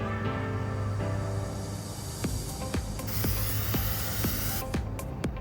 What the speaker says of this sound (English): I'm just gonna spray the side here